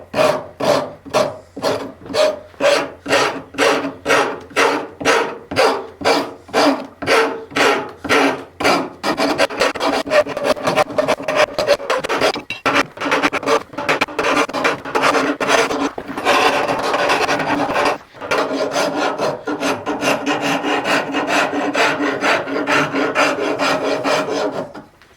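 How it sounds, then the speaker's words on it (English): A rasp files and shapes a wooden axe handle in steady rhythmic strokes, first distinct and evenly spaced, then faster and continuous, close and loud with no talking. "We're going to use the rasp"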